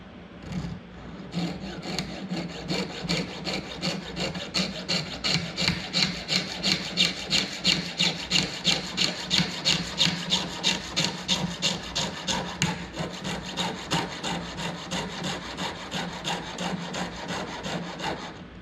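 A fine-toothed saw rasps back and forth at a shallow angle through a metal wire coil in a steady rhythmic stroke, close up, each pass a gritty scraping.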